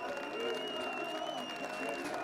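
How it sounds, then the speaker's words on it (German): Applause for the BFC Dynamo football team, staff and coaches from a stadium crowd at the end of a season, a steady dense clatter of clapping held at an even level throughout. "Applaus für Mannschaft, Trainer und Betreuerstab gibt es trotzdem."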